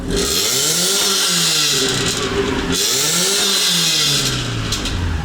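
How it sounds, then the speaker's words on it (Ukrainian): Exhaust of a used car revving hard twice, each rev rising and falling in pitch over a loud, steady rasp, close by with no talking. "І зацініть вихлоп."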